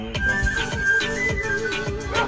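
Repeated whistled tones, bright and fairly steady, over a busy background of rhythmic low thumps, moderately loud.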